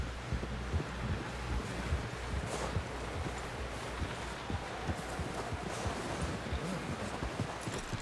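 Horse hooves clip-clopping in the video game Red Dead Redemption 2, a steady muffled rhythm of hoofbeats under wind and rustling ambience, moderately loud and continuous with no talking.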